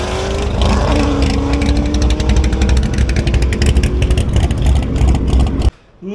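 A twin-turbo Crown Victoria running a $160 junkyard engine roars down a drag strip against a Corvette, its loud, rising engine note holding for several seconds before cutting off abruptly.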